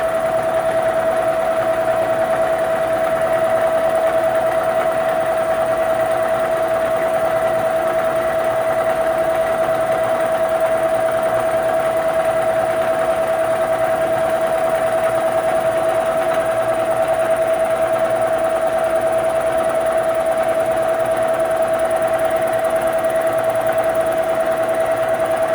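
A Bridgeport milling machine facing off a part at 1,000 RPM with about a 9-inch-per-minute feed gives a steady, unbroken mechanical whine with a constant pitched tone and a low hum underneath, heard alone throughout.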